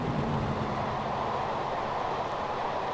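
Class 40 locomotive-hauled coaches run along the line in Train Simulator 2016, a steady loud rumble of wheels and carriage noise with no clear clacks.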